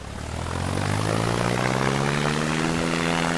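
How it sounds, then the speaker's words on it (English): Engine of a Dornier TU29 short-takeoff aircraft in the flight game SimplePlanes: a loud, steady propeller drone with a slowly rising pitch that swells in over the first half second and holds, close and without talk. "it's a fun plane to fly"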